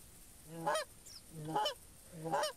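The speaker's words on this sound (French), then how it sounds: "Il y a des oies qui passent là-bas." Three loud honking calls from geese passing in the distance, evenly spaced about a second apart, with a faint higher call between them; no talking.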